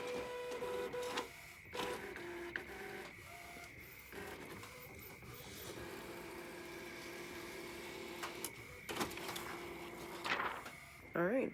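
An Epson Artisan 1430 printer converted for DTF printing runs through its mechanism with whirring carriage passes, clicks and stop-start motor sounds, close-up, with a person talking intermittently.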